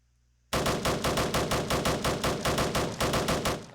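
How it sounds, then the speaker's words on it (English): An anti-air turret in Roblox Military Tycoon opens fire suddenly and keeps shooting in a fast, steady automatic burst of loud, punchy shots that runs without pause to the end, with no voices. "This is the anti-air turret."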